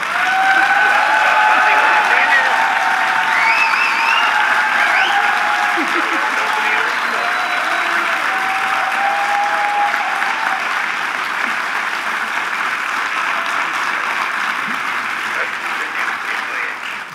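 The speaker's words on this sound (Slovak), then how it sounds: "dúfam, že počujete ten obrovský búrlivý potlesk z divadla Pavla Orsága Hviezdoslava" A theatre audience at the Pavol Országh Hviezdoslav Theatre gives a loud, sustained burst of applause during the Bratislava mayor's award ceremony, a dense wash of clapping that holds for the whole stretch, with faint voices and tones beneath.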